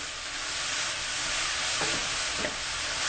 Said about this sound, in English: Want to stir that in.